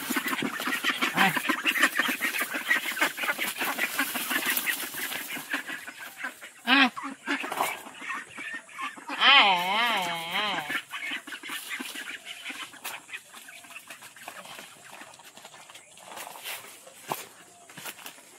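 Domestic ducks quacking near a village home in the Sundarbans, a busy overlapping chorus of nasal calls with one clear, drawn-out quacking sequence in the middle, close and fairly loud.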